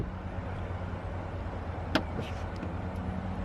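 A single soft, muffled thud as a 2018 Maserati Ghibli S GranLusso soft-close door draws shut, followed by faint clicks, over a steady low engine hum.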